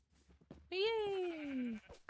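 A sheep bleats once in a video game about breeding white and green sheep, a clear wavering cry lasting about a second over faint background game noise.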